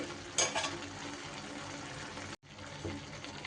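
Chal kumro (ash gourd) shukto with shiuli leaves bubbling in a pan on a gas stove: a steady close simmering hiss with a sharper flare of bubbling near the start and a momentary cutout before the texture resumes.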